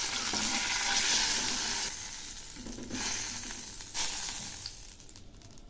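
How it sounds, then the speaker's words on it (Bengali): Sorputi fish frying in a pan of oil gives a continuous loud sizzle and crackle, close by, shifting in intensity as pieces are moved, with no talk. "এভাবেই আমি সবগুলো ভেজে নেব।"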